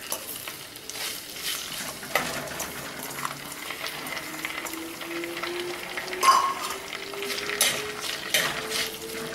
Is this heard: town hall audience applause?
no